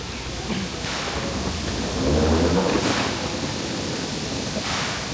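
A steady wash of steam hiss with slow, rhythmic chuffing bursts from the SL Hitoyoshi steam locomotive in Kumamoto, Japan, heard from a moderate distance.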